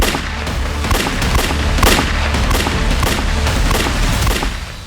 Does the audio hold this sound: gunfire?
yes